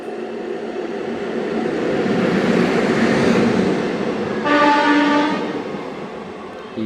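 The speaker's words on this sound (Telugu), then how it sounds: "అక్కన్నపేట జంక్షన్లోనే ఇంకొక ట్రైన్కి క్రాసింగ్ పెట్టాడు" A train passes through the Akkannapet junction crossing on the Kacheguda–Nizamabad line, its rolling rumble swelling and fading, with a loud sustained horn blast sounding near the end.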